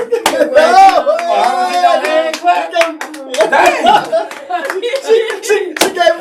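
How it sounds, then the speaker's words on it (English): A few soft, light golf claps pop sparsely under continuous loud talking and laughter from several people. "That was a golf clap."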